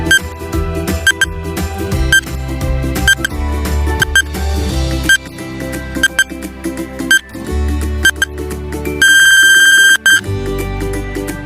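A quiz countdown timer effect: busy electronic music with repeated beeping tones and chimes over roughly ten seconds, ending in a buzzing ring-like burst, loud and close.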